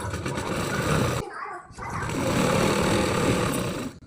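Sewing machine stitching pant fabric, running loud and steady with a brief pause midway before resuming its continuous whir, with a voice talking over it.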